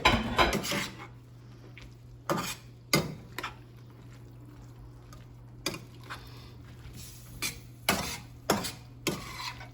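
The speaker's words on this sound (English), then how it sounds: "And you just stir it together." Bread stuffing for pork tenderloin being stirred together in a pan, with scraping of a utensil against the dish and sharp clinks at irregular intervals, close and moderately loud.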